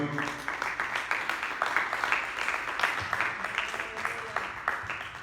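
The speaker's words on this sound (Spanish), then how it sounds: "¿Por qué no le das un aplauso al Señor?" A church congregation claps for God during a bilingual sermon, a dense, even patter of many hands filling the room at moderate volume, with faint voices murmuring beneath.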